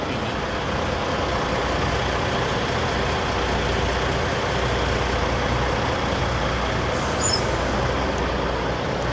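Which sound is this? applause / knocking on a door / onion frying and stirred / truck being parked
truck being parked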